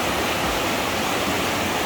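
River water rushing in a steady, even wash of broadband noise, close and continuous with no breaks, at a river where people are catching shrimp.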